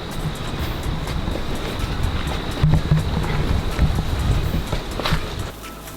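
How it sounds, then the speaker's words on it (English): Strong wind roars across the microphone in a continuous, buffeting rush along a riverbed, with low gusty rumble and no clear voices. "it's super windy"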